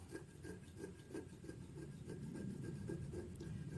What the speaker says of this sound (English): with the radius on this scraper, I can control where I want to put that little shaving at